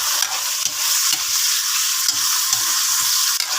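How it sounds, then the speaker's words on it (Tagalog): Chicken liver sautéing in a large pan for chop suey, with steady sizzling and frying and intermittent stirring scrapes and clinks, close and continuous, no talking. "Sabay natin ang paggisa ng atay."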